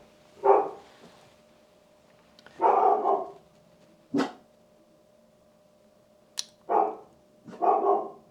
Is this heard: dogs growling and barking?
yes